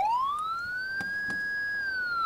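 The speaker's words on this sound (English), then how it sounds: "Very cool sirens." A fire truck siren in Farming Simulator 19 rises to a steady electronic wail and holds it, clear and loud, with a couple of faint clicks underneath and no talking.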